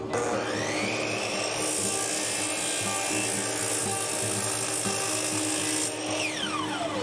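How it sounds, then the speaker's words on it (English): Miter bars being trimmed to length for a tablesaw crosscut sled, a steady loud cutting whine with rasping texture that holds throughout and tails off near the end. "Go ahead and trim the miter bars as needed."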